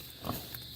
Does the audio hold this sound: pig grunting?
yes